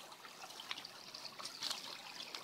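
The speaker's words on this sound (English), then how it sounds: "There's a hose that pours there from the bottom pond." Gentle water trickling from a hose into a koi pond outdoors on a sunny winter afternoon, a soft continuous dribble with brief splashy peaks, faint and steady throughout.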